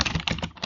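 Quick burst of typing on a computer keyboard while entering Cisco router commands, the keys clattering rapidly and close by with no voice over them.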